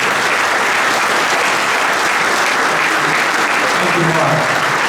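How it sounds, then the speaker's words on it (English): Warm, sustained applause from the audience at the 2023 Derby inauguration greets United States Senator Richard Blumenthal, a dense, loud wash of clapping that holds steady throughout. "won't you give a nice warm Derby round of applause for our United States Senator"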